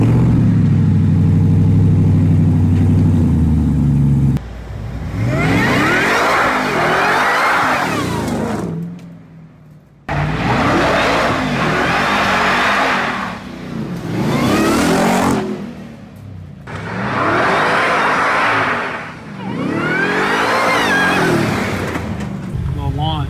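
A Ford Raptor R pickup truck, recently rebuilt after a rollover, roars loudly in the street, with several long, climbing revs broken by brief lifts of the throttle.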